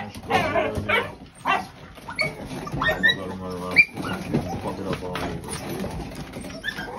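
A dog kept in a solid, insulated dog house gives a mix of barks, yelps and high whimpers in irregular bursts, fairly close, with some other noise around it.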